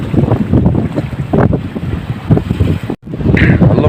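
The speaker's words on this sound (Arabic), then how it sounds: "جو غير مناسب يا جماعه، ريح شرقي والع" Strong east wind buffets the microphone at a fishing spot by harbour barriers under poor weather, a loud, gusting roar that fills the whole stretch with a brief drop near the end, with no talking.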